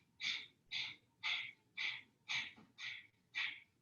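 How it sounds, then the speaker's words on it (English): Eight sharp, forceful exhales through the nose in pranayama breathing, evenly spaced about every half second, close and crisp with brief quiet pauses between. "we're doing a forced exhale"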